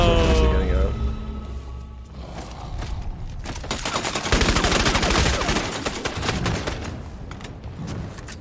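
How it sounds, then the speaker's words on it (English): Rapid bursts of video game gunfire in an online shooter, loud and dense for most of the clip, with sustained automatic fire crackling through the second half. "People are shooting me in the asshole."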